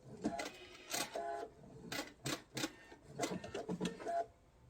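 A sewing machine runs in several short bursts of rapid stitching, with brief pauses between, along a knife-edge facing binding on a quilt, including a few reverse stitches; quiet and close, with no talk.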